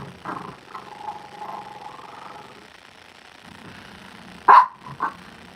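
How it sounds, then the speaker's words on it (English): A dog gives a few scattered barks over a quiet background, with one loud, sharp bark near the end followed by a softer one. "Stop with your screeching barking."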